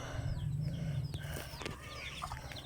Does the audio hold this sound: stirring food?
no